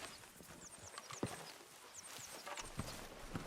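Hooves of a horse in Red Dead Redemption clip-clop at a steady trot, fairly close and clear over outdoor ambience, with bird chirps scattered above.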